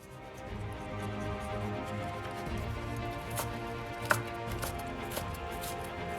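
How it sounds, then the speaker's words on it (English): Knife chopping through pineapple while taking out the core, a steady run of close cutting strokes on a board, loud and continuous with a few sharper knocks near the end. "I just started taking the core out of the pineapple"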